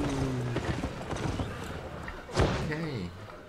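An ox mount in the video game Albion Online trots with a steady clip-clop of hooves, overlaid by a thud and a low moo-like call while a person talks.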